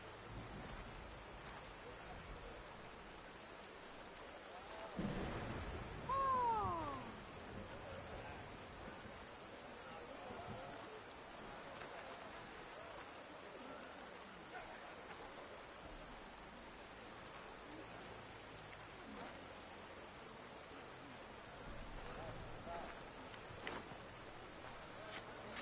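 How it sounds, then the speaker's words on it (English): Steady rain patters throughout in the video game Horizon Forbidden West, with a brief louder rumble and a short chirping tone early on, then a continuous soft hiss of rainfall. "Rain's letting up."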